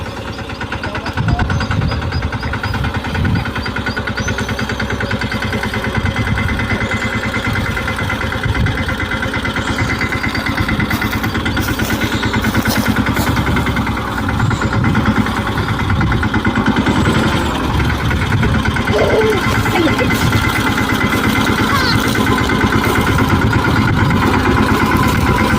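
A tractor engine runs steadily while reversing on a farm, a continuous mid-to-low rumble with a knocking edge that holds at an even, fairly loud level throughout, with no talk over it.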